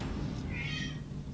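A single short meow from a house cat indoors, fairly quiet against a low background hum, heard alone without talk.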